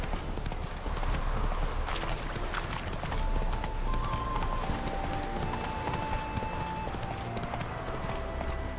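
Horse Roach galloping in the game The Witcher 3, steady rhythmic hoofbeats close and continuous throughout, with brief game tones in the background.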